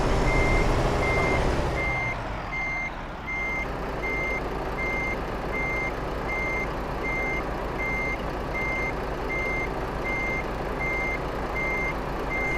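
Reversing beeps from a truck in The Crew, a steady evenly spaced electronic beep repeating throughout over a loud idling diesel engine rumble, after a brief heavier engine surge at the start.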